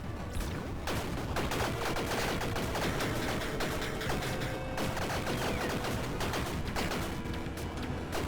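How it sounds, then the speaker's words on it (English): Dense, continuous barrage of explosions and rapid gunfire from the roguelike video game Tiny Rogues, loud and unbroken for the whole stretch with overlapping blasts and shots layered over game effects. "So many explosions."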